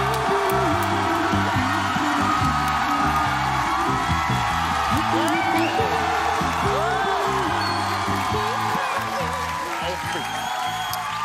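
Studio audience at a Korean sketch comedy show cheering, whooping and applauding loudly and continuously, a dense crowd roar with shouts rising over it and music or voices mixed in throughout.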